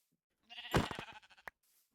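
Sheep in a video game bleat in one short, fairly loud call with a quavering, wavering rhythm, followed by a brief click, with no talk over it.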